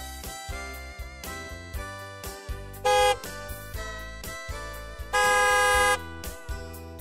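A car horn honks twice, a short blast followed by a longer one, standing out loudly over an ongoing upbeat musical backing.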